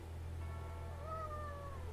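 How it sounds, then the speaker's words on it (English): Cat meowing in a video game, a single drawn-out rising and falling meow lasting about a second, moderately near over a steady low hum with no talk. "Got a cat."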